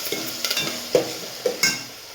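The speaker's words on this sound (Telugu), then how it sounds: "ఇప్పుడైతే కొత్తిమీర వేసుకోవాలి, మంచిగా కలుపుకోవాలి." Okra curry is stirred in a pan as coriander goes in, with a few scraping stirs and light taps over a soft sizzle close by.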